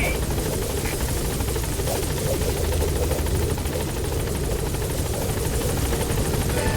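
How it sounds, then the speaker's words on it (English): A support helicopter sets down at a landing zone in Metal Gear Solid V, its rotor chop steady and loud throughout, with faint speech underneath. "Support helicopter has arrived."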